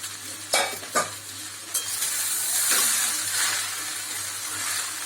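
Soya chowmein noodles, lightly steamed with salt and oil, drop into a hot pan, with a couple of sharp spatula knocks at first, then a continuous close sizzle as they stir-fry.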